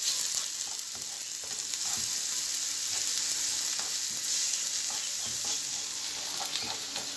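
Food frying in a pan, a loud continuous sizzle and hiss with faint stirring taps underneath, steady throughout and no one speaking.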